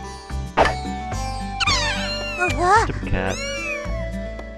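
Cat meowing in the visual novel game Little Busters, several loud, rising and falling meows in close succession, with a person speaking briefly over the game sounds.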